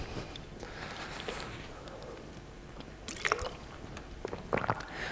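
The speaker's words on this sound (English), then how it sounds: "Taking a sip of water." A few soft, wet sips and small liquid squishes from someone drinking water, faint and close, with a couple of brief clustered slurps in a quiet room.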